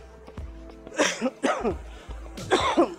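Several harsh, close coughs in quick bursts, separated by short pauses, with a faint background hum.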